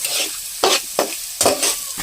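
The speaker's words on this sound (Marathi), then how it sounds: "कांदा व्यवस्थित परतून द्यायचा." Chopped onion sautés in plenty of hot oil for a bamboo shoot curry, a continuous sizzle broken by four quick, close scraping stirs of a spoon against the pan.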